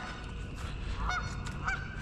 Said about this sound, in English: Got four geese right there, and there's a few more back there in the back.